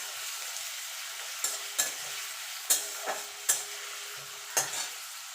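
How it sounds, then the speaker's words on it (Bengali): Carrots and beans frying in oil for a home-style vegetable dal, a steady soft sizzle broken by several sharp scraping stirs of a spoon in the pan, close and with no talk. "এই তেলেই আমি গাজরটা আর বিনসটা ভেজে নেব।"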